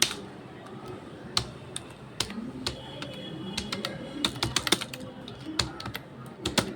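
Computer keyboard keys are tapped in irregular quick bursts while a channel name is entered, close and fairly faint, with soft clicks clustering and pausing over several seconds.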